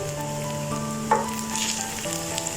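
Cut okra fries with onions in a pan, a close, continuous hiss and sizzle with one brief clink of a spoon as it is mixed.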